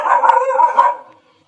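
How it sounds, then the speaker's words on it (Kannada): Dogs cry out nearby in a loud, drawn-out howling yowl lasting about a second, then it cuts off into silence. "ನಾಯಿಗಳು ನೋಡಿ ಜೋರು ಮಾಡ್ತಾ ಇದೆ."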